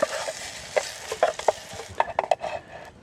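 Steak, onions and garlic fry in a pan outdoors on a backpacking stove, a soft steady sizzle broken by close clinks and scrapes of a utensil stirring and moving the food.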